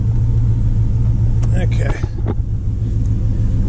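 A Dodge Ram truck engine rumbles at idle, a steady low drone that runs throughout, while someone speaks briefly over it from inside the cab.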